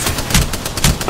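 Rapid gunfire from a shooter video game, loud close bursts of shots cracking in quick succession with a couple of heavier booming hits.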